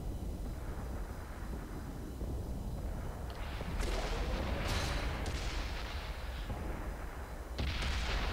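Tank gunfire and shell impacts in the World of Tanks game on Xbox One, a dense rumbling barrage with several sharp cracking hits and bursts over a continuous low engine and battle roar.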